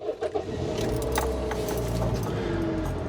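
A Toyota bB's engine cranks and catches after a few short clicks and jingles, then settles into a steady idle close by.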